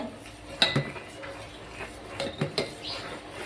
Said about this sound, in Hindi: आधे घंटे हो गई है चलाते चलाते खीर को